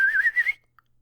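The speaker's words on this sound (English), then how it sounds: "He whistles." A man whistles to call a dog, one close, clear warbling whistle lasting about half a second, followed by a tiny faint chirp and then silence.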